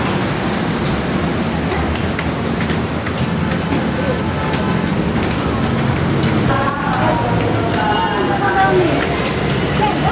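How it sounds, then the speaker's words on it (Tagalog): Riding the LRT light rail train in Manila near Tayuman station, a steady rumbling ride noise with faint high squeals and chimes, while people chat nearby over the din. "So we're going up in the LRT, I suppose."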